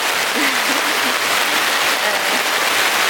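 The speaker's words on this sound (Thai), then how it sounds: "ฟังเสียงฝนตกไปก่อนนะ" Steady, dense rain drums on a tent at a riverside campsite in Kanchanaburi, Thailand, a loud continuous hiss with no breaks, heard close from inside the tent.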